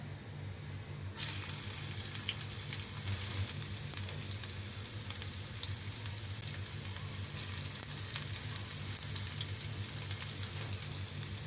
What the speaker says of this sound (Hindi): देख सकते हैं हमारा तेल अच्छे से गर्म हो चुका है। अब हम इसके अंदर डालेंगे ये अपना लहसुन